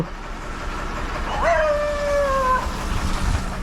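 A dog gives a single drawn-out, wavering howl lasting about a second, close and fairly loud, at a rubber processing plant in Kalady, with faint background noise around it.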